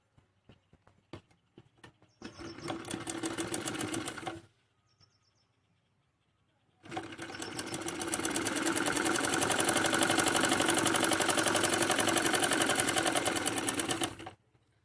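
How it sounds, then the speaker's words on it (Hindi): A sewing machine runs in two bursts while stitching a seam on a salwar, first a short run, then a longer steady whirring stretch with rapid needle clatter, close and loud, with brief ticks and quiet between. "इसमें हमें यहाँ पर सिलाई लगानी है"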